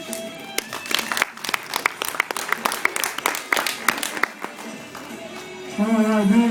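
An audience at a hypnotist's show claps for the stage volunteers in scattered, uneven bursts that thin out, followed by a brief musical tone at the close.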